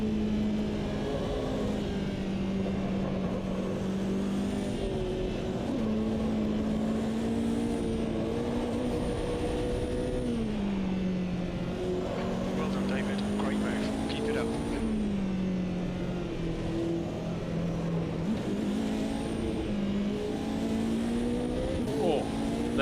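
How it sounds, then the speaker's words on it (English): A race car engine in Automobilista 2 at Circuit of the Americas drones and shifts pitch as another car passes close by, with the revving rising and falling throughout. "I felt like I heard a car on the outside of me there"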